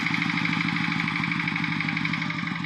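A small converted multipurpose farm tractor engine runs steadily nearby, a continuous even chugging with a regular pulsing beat and no pauses.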